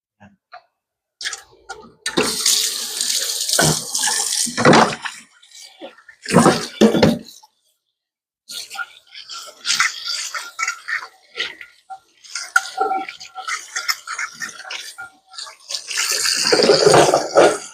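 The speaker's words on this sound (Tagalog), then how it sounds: "So, bago ang lahat, ay hugas muna tayo." Hands washing under running tap water in a kitchen while making pork vegetable dumplings, with irregular bursts of splashing and flowing water broken by short silent gaps.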